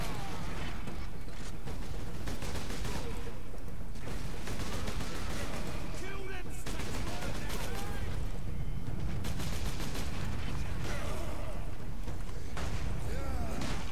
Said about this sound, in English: They're trying to shoot me with their shooters.